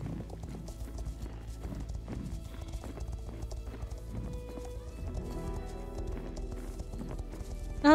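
Horse hooves clip-clop in a steady rhythmic gait in a western video game, with a whinny breaking through, set over a soft ambient music bed.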